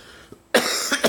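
A person with a lingering chest cold coughing: a faint catch, then one deep, loud, rough cough bursting out close to the microphone and tailing off with a further rasping push.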